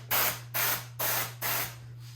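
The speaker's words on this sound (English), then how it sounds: "I have this tube of air duster, which is being widely used now" Four short hissing bursts from a can of compressed air duster spray out in an even rhythm, close and loud, over a low steady electrical hum.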